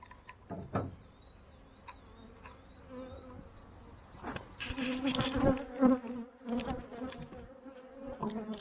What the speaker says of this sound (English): there's going to be lots of bees flying around